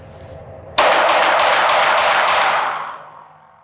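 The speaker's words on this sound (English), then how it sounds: "6 rounds from the holster" A Ruger RXM pistol fired six rounds in quick succession from the holster, sharp loud reports in a tight rhythm followed by a fading echo.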